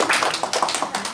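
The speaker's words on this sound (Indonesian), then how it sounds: "Oke, kasih tepuk tangan sedikit." An audience at a church worship service claps briefly, with a small group producing a short run of quick, fairly even hand claps at moderate volume and no talk over them.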